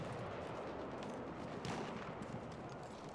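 Rapid bursts of BAR rifle fire in Battlefield 1 multiplayer, a steady dense crackle of gunshots held at a faint, distant level throughout.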